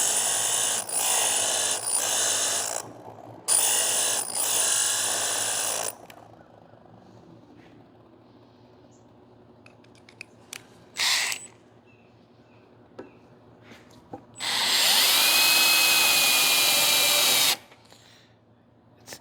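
A drill bit sharpener grinds a drill bit in loud bursts: two harsh grinding passes at the start, a short burst midway, then a longer, shriller grind before stopping, with quiet pauses and small clicks between.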